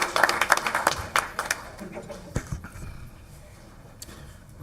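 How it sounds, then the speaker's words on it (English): Audience applause for the seniors at a school board meeting: a burst of dense, fairly close clapping that thins out and fades to scattered claps within a few seconds. "Please join me in giving our seniors a round of applause."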